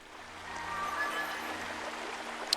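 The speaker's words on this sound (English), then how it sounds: "But where these fairies are flying, this waterfall, I'm going to scoop up the water." Steady rushing water from a waterfall in the Skyward Sword HD video game, a continuous broadband wash heard alone at moderate level, with a brief sharp click near the end.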